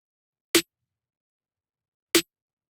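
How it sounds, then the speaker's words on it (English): Two isolated snare drum hits, centered mono, processed in Ableton Live: short, crisp cracks spaced about a second and a half apart, with silence around them. "So the snares are okay, right? By themselves, they sound like this."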